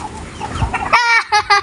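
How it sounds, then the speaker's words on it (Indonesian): Free-range village chickens cluck close by, a few scratchy low notes followed by a sharp, bright rhythmic run of clucks, loud and without talk. "Tuh ayamnya udah lari-lari"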